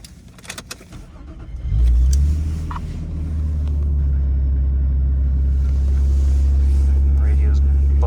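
Nissan R34 Skyline sedan engine cranking and firing up cold, then settling into a steady high idle rumble, loud and close, after a few clicks and handling noises at the start.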